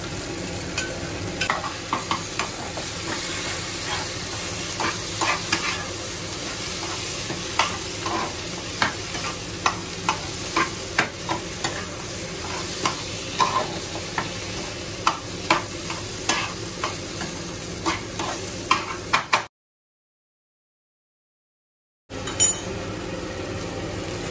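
Ground cumin, coriander, Kashmiri chilli powder, amchur, chaat masala and turmeric stirred and fried in a pan for pav bhaji, with a steady sizzle under repeated scraping and clinking strokes; it briefly cuts to silence near the end.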